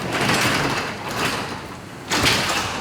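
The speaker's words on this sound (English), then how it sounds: "go all the way up, and go right back down" A manually operated garage door rolls down on its track after leveling adjustments, a loud steady rumbling slide with a heavier surge near the end, close by and without talk.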